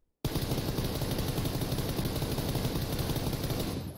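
A rifle fitted with a flash hider fires full-auto in the PUBG video game, a loud, continuous rapid burst of shots that starts suddenly and runs for nearly four seconds before fading.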